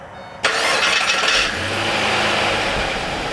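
A Pontiac G8 fires up after a starter repair: a brief crank, then the engine catches with a loud surge and a rev, before settling into a steady rumbling idle close by.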